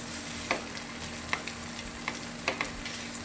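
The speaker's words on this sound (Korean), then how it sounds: "오리기름으로 야채를 볶으려고 오리를 팬에 먼저 올려줬어요" Smoked duck sizzles in a pan, rendering its fat, with a soft steady fry broken by a few light clicks and pops, fairly quiet and close with no voices.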